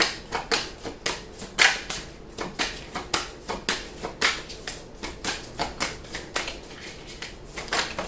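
Tarot cards shuffled by hand in a steady, rapid rhythm of soft riffling slaps, close and alone with no talking.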